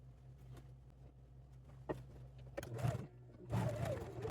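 Sewing machine stitching fall-themed towels, a steady low mechanical whir running throughout with a few louder bursts of motor and fabric handling near the end; no talking.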